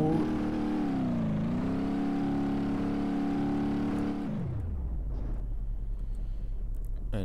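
A Gavril D Series pickup truck's engine revs hard and steadily in BeamNG.drive on a tough truck course, its pitch wavering and climbing before dropping to a rough, lower idling drone.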